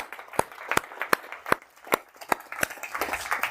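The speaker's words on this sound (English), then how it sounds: "I think we can applaud for this great organization." A small conference audience claps in sparse, separate sharp hand claps at first, which thicken into a light, scattered round of applause near the end.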